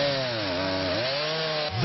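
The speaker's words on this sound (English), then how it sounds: "buzzing of chainsaws and the rumbling of trucks" A chainsaw buzzes during storm cleanup in Nashville, its strong whining engine tone sliding up and down in pitch as the throttle shifts, loud and close, ending with a short rough change in tone.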